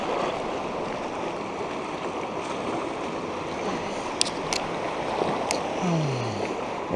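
A Colorado backcountry river rushes steadily around a fly fisherman, a constant broadband wash of flowing water with a few faint clicks and splashes near the end.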